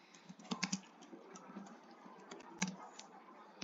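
Typing on a computer keyboard to enter text into a Microsoft Excel cell: quick, soft, irregular key clicks, close up and fairly quiet, with a couple of sharper taps standing out.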